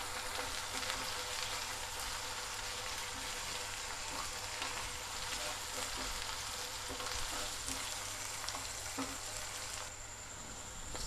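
Onion, garlic and ginger fry steadily in a pan for pepper chicken fry, producing a soft, even hiss of sizzling oil, fairly quiet and unbroken throughout.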